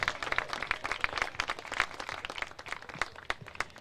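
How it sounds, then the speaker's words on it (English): Crowd applause at a senior day men's college soccer match at United Bank in Charlotte, North Carolina, a steady mix of many claps, moderately distant, with no talking over it. "Fans, let's have another round of applause for number 8, Lucas Pleasance"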